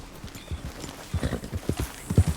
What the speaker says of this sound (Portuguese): Faz com o cavalo correndo, é bonitão.